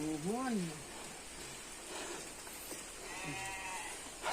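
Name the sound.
heavy rain in the countryside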